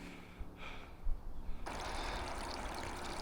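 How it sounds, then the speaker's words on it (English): A small stream trickles at the source of the River Froome on the Cotswold Way at sunrise, a steady broadband rush of running water that rises abruptly halfway through and then holds close and continuous, with no talking. "So this is the source of the River Froome."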